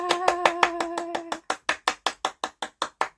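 A burst of enthusiastic clapping at a children's church service, with a voice chiming over the first half, then about ten sharp, evenly spaced claps on their own.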